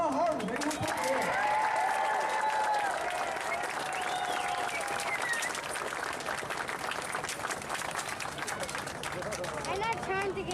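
A crowd at the EAA AirVenture 2023 air show cheers and applauds for a drill team, continuous loud clapping mixed with whoops and whistles, with an announcer's voice heard over the din.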